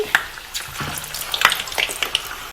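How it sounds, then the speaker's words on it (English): Korean beef samosas drop into oil at about 350 degrees and sizzle in short crackling bursts and pops, close by and fairly quiet. "Now to fry up our samosas"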